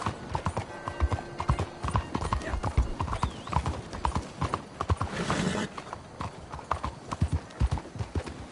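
Horse galloping in Red Dead Redemption 2, rapid rhythmic hoofbeats close and loud throughout, with a whinny partway and a brief burst of rushing noise mid-clip.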